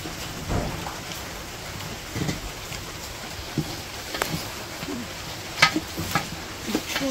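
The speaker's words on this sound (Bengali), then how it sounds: "মাংসগুলো দিয়ে দিতেছে মাংসগুলো প্রথমে ভালো করে কষিয়ে নিব" Meat frying with spices in a pan, a constant crackling sizzle with irregular pops and spatters, close and fairly steady.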